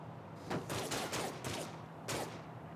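Gunfire in Saints Row: The Third, a few loud bursts of several shots each spread across a couple of seconds, up close with no talking over them.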